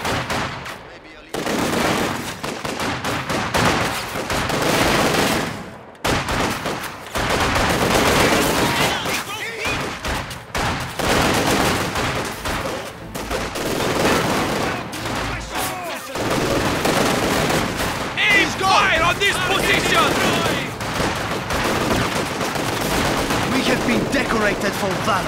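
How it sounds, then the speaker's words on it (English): Gunfire from an infantry attack in the Company of Heroes 2 strategy game, a dense, loud, continuous barrage of rifle and machine gun fire with booms, mixed with shouted in-game voices. "Under infantry attack!"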